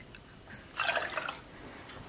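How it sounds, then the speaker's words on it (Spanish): Milk poured into a pot of rice for rice pudding, a short soft liquid splash and trickle lasting under a second, quiet and close. "Ahora voy a agregarle la leche."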